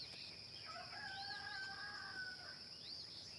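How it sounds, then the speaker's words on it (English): Roosters crow outdoors on an Oklahoma farm at sunrise, two or three drawn-out calls from a moderate distance over quiet morning ambience. "Roosters are hollering."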